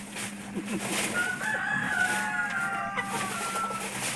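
A rooster being picked up for shipping crows once, a drawn-out mid-distance call over a low steady hum and some background voices.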